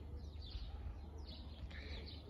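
Small birds, sparrows, chirp faintly in a summer garden, a few soft high calls over a steady low outdoor rumble.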